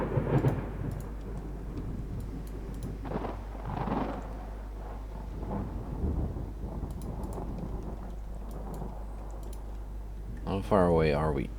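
Storm ambience with low thunder rumble and rain in a naval video game during a 1956 Norwegian campaign, continuous and moderately loud, with brief bursts of interface clicking and a tonal game sound near the end.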